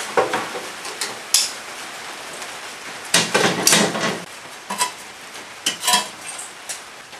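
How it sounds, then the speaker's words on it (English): Metal clanks and scrapes as a barbecue grill grate is pulled and moved, several sharp irregular knocks and rattles up close over a quiet background. "I'm going to pull this grill."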